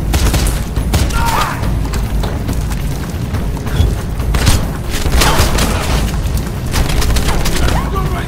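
Heavy, continuous gunfire in a cutscene from the game Wanted: Weapons of Fate, a loud, unbroken barrage of shots with deep booming impacts.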